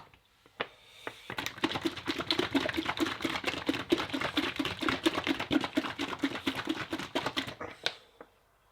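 Homemade carp bait booster ingredients are stirred and mixed in a container, producing dense rapid clicking and scraping strokes in a steady rhythm for several seconds, close and fairly loud, with no talk.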